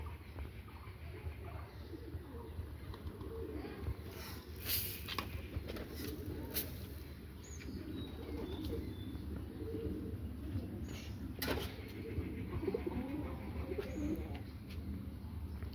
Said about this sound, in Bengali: এই হচ্ছে আমার কবুতর